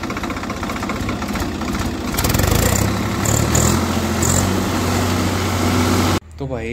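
A Swraj 744 XT tractor engine runs loudly and steadily nearby, a rough low rumble that cuts off abruptly near the end.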